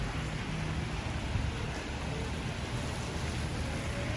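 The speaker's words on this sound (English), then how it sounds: "It's a pity it's rainy." Rain falls steadily on a Galway street at night, a continuous dense hiss with a low rumble underneath and no distinct voices.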